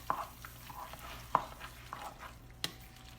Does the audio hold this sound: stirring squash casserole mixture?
yes